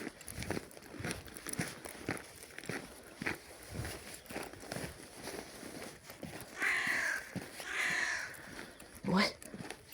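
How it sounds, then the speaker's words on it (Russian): A crow cawing from a lamppost on a snowy winter walk with a fox terrier, the harsh caws coming a few times in the latter half over crunching footsteps in snow, with a person talking. "Филя увидела и каркает."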